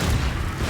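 A Confringo spell explosion in the Hogwarts Legacy video game hits as one short, loud, deep boom with a rumbling low end, heard alone.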